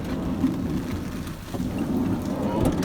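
Heavy hurricane rain pours steadily with low rumbling thunder in Discovery Bay, St Ann, Jamaica, a dense continuous wash of rainfall with no voices.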